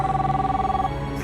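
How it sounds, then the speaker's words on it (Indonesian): A telephone rings repeatedly in an evening home drama scene, steady electronic trill pulsing through the whole brief moment with no talk over it. "Ayo dong Yanti, angkat telepon dari Papa ini"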